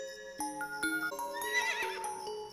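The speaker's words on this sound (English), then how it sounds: "That's a horse." A horse neighs in a high, wavering whinny after a few hollow hoof clip-clops, moderately close and without talk.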